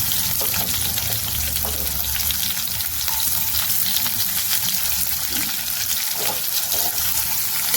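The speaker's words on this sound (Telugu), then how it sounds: "ఇప్పుడు ఉల్లిపాయలు వేసుకుందాం, సన్నగా తరిగిన ఉల్లిపాయలు." Finely chopped onions fry with garlic in a pan, giving a steady, loud sizzle and crackle throughout with faint stirring scrapes and no talking.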